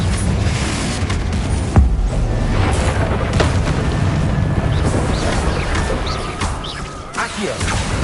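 Confringo blasting spell explosions in the PS5 video game Hogwarts Legacy: a loud, dense roar of blasts and rumble, with a sharp crack near the start and scattered crashes over a steady low-end boom.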